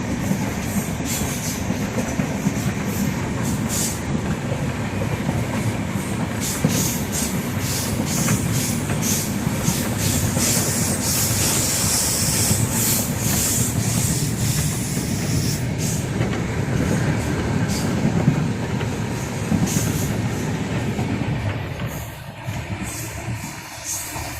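Passenger train pulling out of a station on an Indian rail route, with steady rolling rumble and rhythmic wheel clatter heard from on board near the door, continuous and fairly loud throughout.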